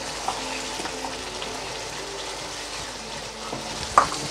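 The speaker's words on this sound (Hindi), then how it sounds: "अब अच्छे से भुने आप।" Small cubed piece of ginger frying in a pan for an aloo matar chicken keema, giving a steady close sizzle with faint stirring scrapes and a brief louder clink near the end.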